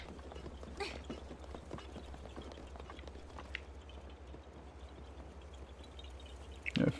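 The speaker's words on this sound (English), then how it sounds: "Somebody's riding a horse across this bridge." Hooves clop steadily across a bridge in a video game as a horse is ridden over it, a quiet, even rhythm of hoof strikes heard at a distance against a low hum.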